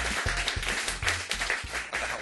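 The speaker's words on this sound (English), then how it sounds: "Let's give a round of applause for Chisame and that new intro!" Applause for a new show intro on a talk-hour program: a burst of clapping over a thumping, rhythmic low backing, moderately loud and continuous for a couple of seconds.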